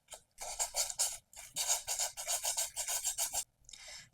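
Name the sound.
sanding mirror edges with sandpaper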